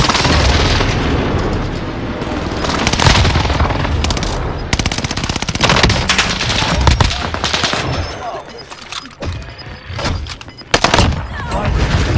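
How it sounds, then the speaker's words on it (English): Call of Duty Warzone precision airstrike explosions pound down with heavy booms mixed into dense automatic gunfire, loud and continuous at first, then thinning into scattered blasts and shots. "Enemy precision airstrike."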